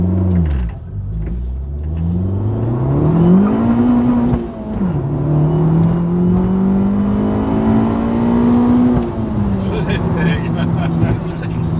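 A 250 bhp Abarth 500 GTO accelerates hard with traction control on, its engine note climbing through the gears in loud rising sweeps with brief dips at shifts, heard from inside the car.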